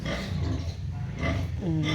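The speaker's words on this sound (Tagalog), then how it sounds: "Ari ko sa ako ang mga alagang baboy." Pet pigs kept in a pen give low grunting and snuffling noises throughout, close and fairly steady, with a brief higher squeal near the end.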